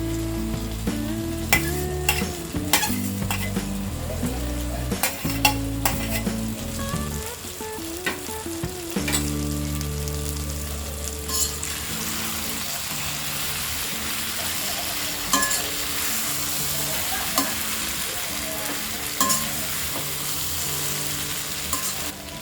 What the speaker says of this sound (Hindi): इसमें डालेंगे ये फ्राई किए हुए आलू। और ये फ्राई किए हुए कॉलीफ्लावर।